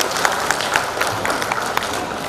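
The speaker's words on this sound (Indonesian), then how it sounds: "Tepuk tangan untuk yang terima kasih" Crowd applause rolls through a Blitar Regency government gathering, a dense, even patter of many hands clapping at steady volume throughout.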